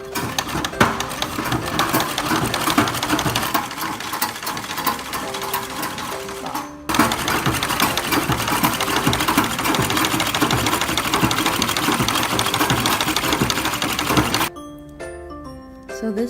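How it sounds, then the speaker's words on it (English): Treadle sewing machine running steadily, its needle moving up and down in a busy, continuous mechanical clatter that cuts off briefly before resuming and then stopping near the end. "Now, use the treadle to keep the movement of the needle."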